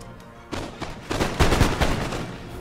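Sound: musket volley fire in Empire: Total War video game

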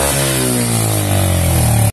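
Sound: old oil-burning motorcycle engine started

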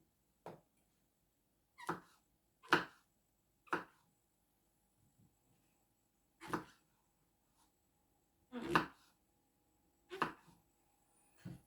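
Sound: cutting mushrooms into large pieces for mushroom soup

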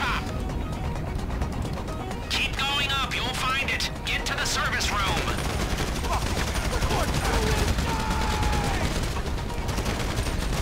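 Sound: gunfire in the video game Grand Theft Auto 5

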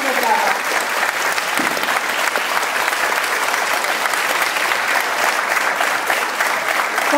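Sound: audience applause at a concert

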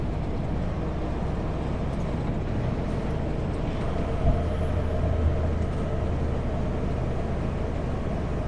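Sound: logging truck driving nearby

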